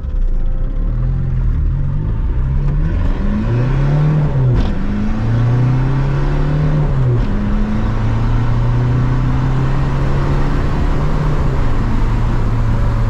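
A car engine fitted with an intercooler revs up through several gears, pitch climbing and dropping with each shift, a loud steady rumble throughout with no talking.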